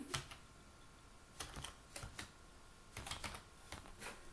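Typing on a computer keyboard: quiet, quick bursts of key clicks in uneven clusters over a faint steady background hum.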